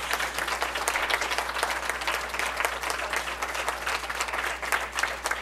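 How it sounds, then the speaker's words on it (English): An audience at a school board meeting applauds, dense, even clapping throughout at a moderate level with no pauses. "So if we can give these schools a round of applause,"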